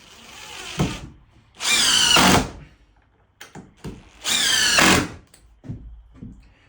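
Two bursts of a power drill whining as it bites into 2x4 and 2x6 wood boards, each lasting under a second, with clatter and handling noises in between.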